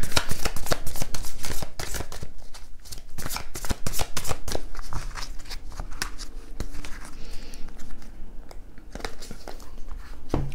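Oracle cards are shuffled by hand, giving rapid, crisp, irregular riffles and flicks close to the mic for about ten seconds with no talking.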